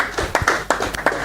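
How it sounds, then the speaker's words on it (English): Scattered clapping from an audience at an investing event, a brief, sparse run of individual hand claps with gaps between them, fairly close and moderate in level. "Could you give a round of applause to the organizers?"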